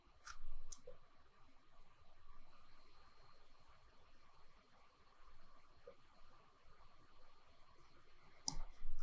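Computer mouse clicks from editing in After Effects, sparse single clicks scattered over a quiet low hiss, with a sharper cluster near the end.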